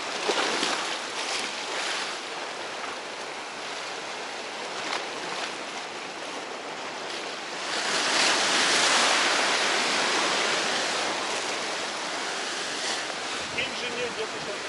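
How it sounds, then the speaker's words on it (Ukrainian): Broad rushing wash of small Black Sea waves breaking on shore, swelling louder midway then easing, steady and continuous with no talking. "Невеличка хвиля"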